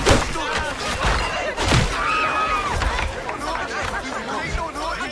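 Tavern crowd in the Assassin's Creed IV: Black Flag video game, a continuous babble of many voices with occasional thuds and knocks mixed in, moderately loud and busy throughout.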